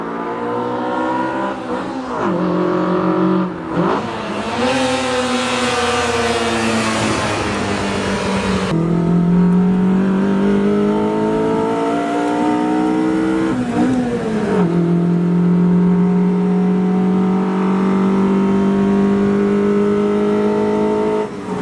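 A classic Mercedes-Benz S600 engine revs up again and again, each climb in pitch rising, falling back and swelling again, loud and close by.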